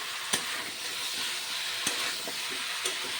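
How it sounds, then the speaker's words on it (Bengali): Spiced sojne data (drumstick) curry sizzles and fries in a pan as sugar is stirred in, a steady hiss broken by a few sharp scrapes of the spoon, close by with no voices. "এবার চিনি দিয়েও আর একটু কষিয়ে নেব"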